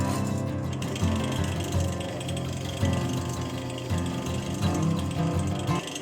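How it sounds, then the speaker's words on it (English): A wood lathe runs with a steady mechanical rumble and rhythmic rattling chatter, loud and continuous throughout with no voices. "poke it into the center there so I know that I'm in the middle, and turn on my lathe"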